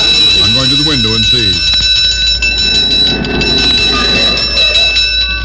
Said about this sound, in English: That clanging sounds like a patrol wagon.